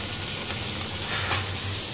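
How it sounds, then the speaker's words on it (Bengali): Vegetables fry in a hot pan with a steady, close sizzle and crackle, a brief louder spatter near the end, no voices present. "এই যে এখানে ভাজা ভাজি চলছে,"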